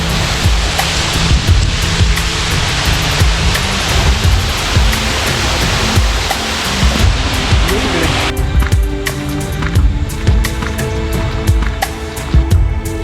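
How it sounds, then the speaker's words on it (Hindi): A waterfall beside a mountain trail on the way up Peb fort near Vikatgad roars in a dense, constant rush of falling water, loud and close, easing slightly in the last few seconds. "इस पट्टी के रास्ते में कई झरने दिखाई देते हैं।"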